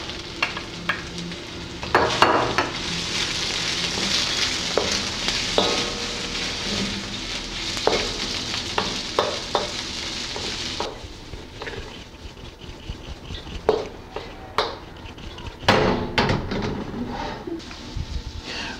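Carrots stir-fry with shrimp and noodles in a hot pan, a steady sizzle broken by repeated scraping and clattering stirs of the utensil, close and moderately loud with no talking.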